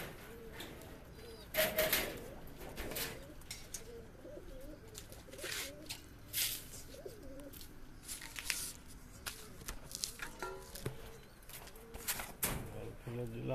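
Pigeons in the flying cage of a loft, breeding pairs and grown young together, coo softly and repeatedly at close range, broken by loud bursts of wing flapping and rustling.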